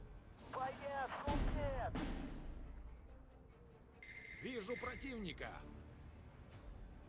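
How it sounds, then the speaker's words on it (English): Air strike with bombing and strafing in the Steel Division 2 wargame, a series of distant booming blasts and gunfire bursts spread across the clip while a voice keeps talking over them. "And then we're going to drop another set of bombs on this dude"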